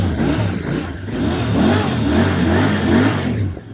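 A blacked-out Royal Enfield Interceptor 650 in Barcelona Blue revs through fairly tame stock exhaust pipes, a steady rising and falling twin-cylinder drone with a few swells, close and loud, no talking.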